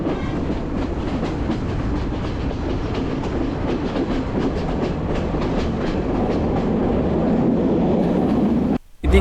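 The Ella Odyssey train in Sri Lanka's hill country rolls slowly along mountain slopes with a steady, close rumble and rhythmic clatter of wheels on rails, continuous throughout with a brief dropout near the end.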